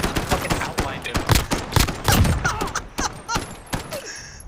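Rapid gunfire in the video game Call of Duty, dense overlapping bursts and single shots cracking loudly through the whole stretch, with faint voices underneath.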